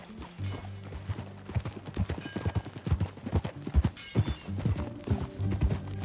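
Horse hooves clip-clopping at a walk in the Red Dead Redemption 2 video game, irregular close hoofbeats with soft snorts and tack rattle, building slightly louder toward the end.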